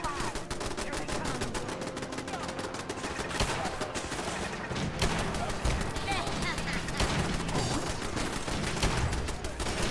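Artillery strike in the Fallout 4 video game: dense, continuous barrage of gunfire and explosive blasts filling the whole stretch at steady loudness, with excited voices shouting over it.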